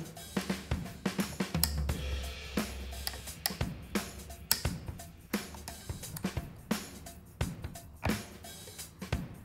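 A small screwdriver pries open the transmission computer case of a BMW E36, producing a quiet, irregular run of sharp clicks, ticks and plastic snaps close by, with no speech.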